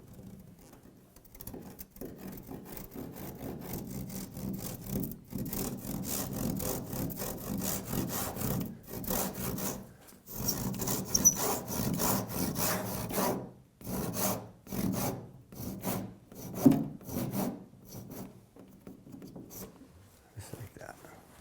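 A handsaw cuts through the wooden bottom planking of a 23-foot V-bottom skiff, making steady rhythmic rasping strokes up close that run for about twenty seconds, slow and break up toward the end, with some talk alongside.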